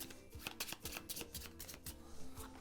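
A deck of cards being shuffled by hand during a Hero Realms deck-building game, a rapid close riffle of papery flicks and snaps over a few seconds, with no voices.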